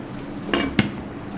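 Beef achar gosht being served from a cooking pot into a dish, with two distinct metallic clinks of a serving spoon against the pot a moment apart over a quiet kitchen background.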